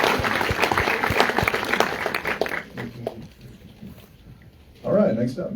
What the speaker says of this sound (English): Give a round of applause to the candidates here.